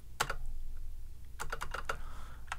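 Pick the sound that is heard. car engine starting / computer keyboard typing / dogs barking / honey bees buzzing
computer keyboard typing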